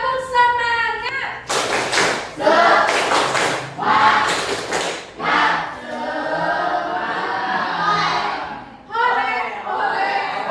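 A group claps in a quick patterned rhythm, bursts of sharp claps broken by short pauses, with voices chanting along between them.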